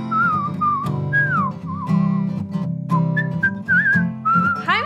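Clear, melodic whistling in a singing studio: one person whistles a wandering tune in short phrases with brief pauses, sounding close, loud and alone.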